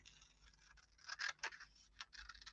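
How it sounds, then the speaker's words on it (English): Scissors snip through skirt fabric along a sewing dart, a quiet run of short crisp cuts and scraping blade strokes, close and alone with no talk. "So if we just do that, so I'm just going to cut along."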